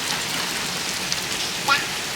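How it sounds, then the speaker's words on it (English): Steady hiss of rain falling on a surface after hail, even and close, with no talking. "Yeah, it's raining."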